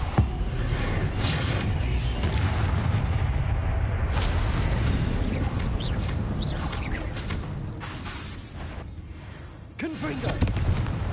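Confringo and Bombarda spell blasts in Hogwarts Legacy go off in rapid succession: repeated booming, crackling bursts over steady loud combat noise, with a voice shouting over them.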